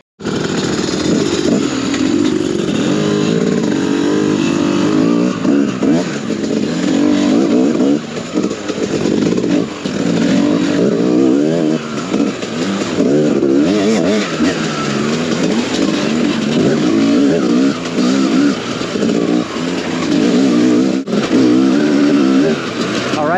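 A 2022 TM EN300 fuel-injected dirt bike rides a trail. The engine is loud and close throughout, revving up and down in quick surges, with no talking.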